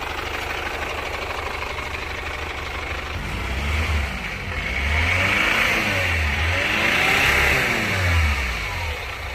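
Rough-running Chevrolet Captiva diesel engine revving up and down in a few repeated throttle blips over a steady rumbling idle, loud and close, with no talk.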